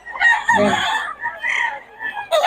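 A pure Kelso gamecock crows loudly and close by, one full crow followed by shorter calls and clucks, with someone talking in the background.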